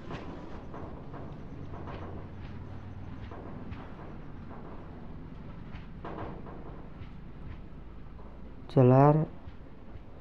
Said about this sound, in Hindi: ये तो ट्रेन यहाँ से निकल चुकी है।